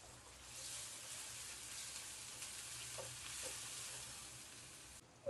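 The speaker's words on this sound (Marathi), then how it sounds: "आता यामध्ये लगेच टाकून देते बारीक चिरून घेतलेला टोमॅटो. टोमॅटो आणि कांदा मऊ होऊ द्यायचा." Finely chopped tomato and onion fry in a pan while they soften, giving a soft, continuous sizzle with a couple of faint stirring scrapes, fairly quiet and close throughout.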